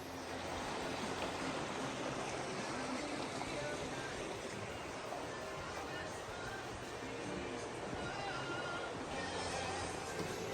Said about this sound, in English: wait out this rainstorm